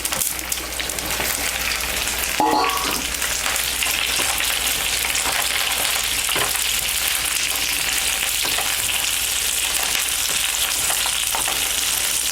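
Okra shallow-frying in oil in a pan, giving a steady, dense sizzle throughout with a brief stir or clatter near the start, close and continuous with no talking.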